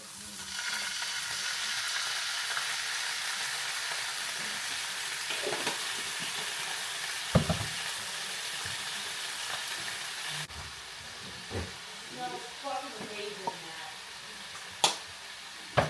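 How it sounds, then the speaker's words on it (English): Chopped onions and garlic sauté in a pan for homemade ketchup, giving a steady soft sizzle throughout, with a few sharp clicks and light stirring taps near the end. "we saute up some onions"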